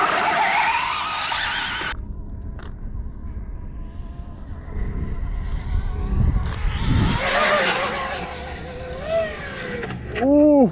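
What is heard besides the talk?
Arrma Limitless V2 RC car speed run on ice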